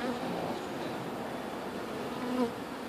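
Dense, steady buzzing of many honeybees crowded between hive frames during a swarm removal in Orange County, close and continuous with a slight swell near the end.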